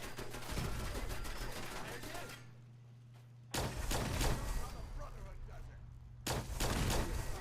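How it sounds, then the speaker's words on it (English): A grenade explosion and gunfire in the video game Fallout 4, with loud rumbling bursts of combat noise broken by a short quieter gap, heard close and sustained. "Threw another grenade."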